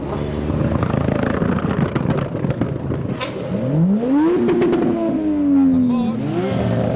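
Modified cars arriving at a meet, a yellow S15 Silvia and a Nissan GTR, loud engine rumble swelling into a revving pull that climbs and then holds, with voices in the background.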